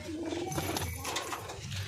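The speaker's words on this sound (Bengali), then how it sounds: "এই একটা পায়রা নর, হেবি সুন্দর পায়রা" A male pigeon coos softly in short, low repeated notes over steady background noise near a breeding loft.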